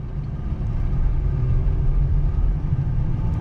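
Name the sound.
2009 Honda Pilot Touring engine while driving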